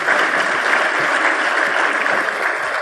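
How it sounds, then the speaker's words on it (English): Audience applause for dignitaries at an agreement-signing ceremony between the Chandigarh Municipal Corporation and a French development agency, a dense, sustained clapping from a large crowd, steady and fairly loud throughout. "Huge round of applause for all the dignitaries."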